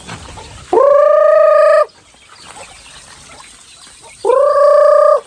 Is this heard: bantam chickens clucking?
yes